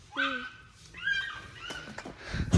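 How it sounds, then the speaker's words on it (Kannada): Small puppies in Coorg whimper and yip in a series of high, wavering cries, close by and fairly clear, with a scuffle of movement and low background noise toward the end. "ಪುಟ್ಟ ನಾಯಿ ಮರಿಗಳಿದೆ ನೋಡಿ"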